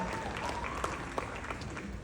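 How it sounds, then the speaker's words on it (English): Applause for the team behind a psychedelic science conference, steady dense clapping from a large audience filling the room, with faint voices and a few sharper claps standing out. "I just want to applaud all of you"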